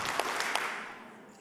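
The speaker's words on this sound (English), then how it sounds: "If you can hear my voice, clap 3 times." An audience in a school district leadership session claps three times in unison on request, three sharp, evenly spaced claps from a crowded room that fade into a short room echo.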